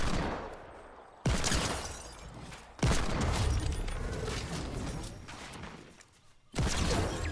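Gunfire in the video game Fortnite: loud, dense bursts of rapid shots that cut in abruptly, stop, then resume in a long sustained volley before a final burst.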